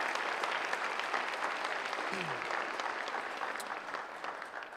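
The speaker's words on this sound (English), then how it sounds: "can we give her a round of applause?" An audience at a sports awards ceremony applauds in a dense, continuous wash of clapping, moderately distant and steady, fading slightly toward the end.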